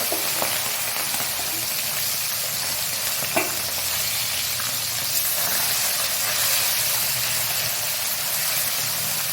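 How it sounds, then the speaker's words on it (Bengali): Small puti fish frying in hot oil in a pan, giving a steady, dense sizzle throughout with a brief faint clatter partway, no voices. "পুটি মাছগুলো ভেজে দেবো কম মাছটাই আমি একসঙ্গে দিয়ে দিলাম"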